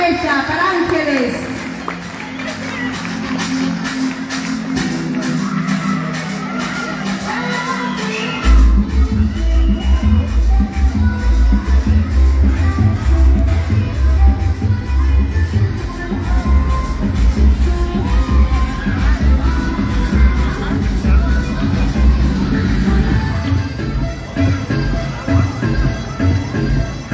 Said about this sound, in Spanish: Fuerte aplauso para ella, para Ángeles.